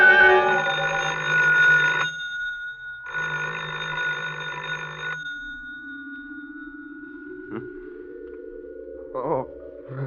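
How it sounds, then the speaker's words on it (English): Telephone bell ringing as an old-time radio drama sound effect: two loud bursts of ringing separated by a short pause, then a quieter low tone afterwards. "I thought I heard the phone."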